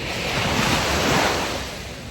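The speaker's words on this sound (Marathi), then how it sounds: "शांत अशा समुद्राच्या लाटांचा पण आवाज येतोय तिथे" Sea waves break continuously on the shore at a beach in Visakhapatnam, a loud, steady wash of surf mixed with wind rumble and no voices.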